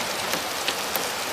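Steady rain falling outdoors just after a hailstorm, a dense even hiss of drops on surfaces with a few faint louder taps, loud and continuous with no voices.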